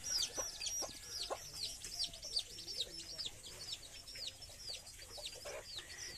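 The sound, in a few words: Punjabi breed hens clucking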